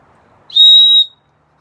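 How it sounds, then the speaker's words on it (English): A handheld rape whistle gives one loud, piercing, steady blast lasting about half a second, close up and alone, ending abruptly into silence. "Matt just shows up at my house with a rape whistle"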